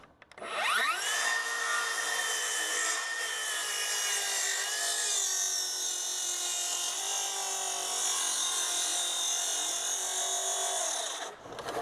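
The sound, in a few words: plunge saw cutting wood for stair building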